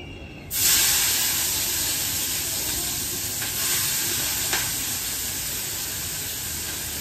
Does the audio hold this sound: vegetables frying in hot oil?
yes